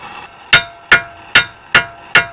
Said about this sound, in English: This bolt for me was frozen in place, so a little heat and a larger hammer gets the job done.